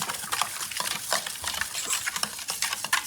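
A lemon and salt cleaning liquid is stirred briskly in a container, giving rapid wet scraping and swishing strokes in an uneven rhythm, close and moderately loud.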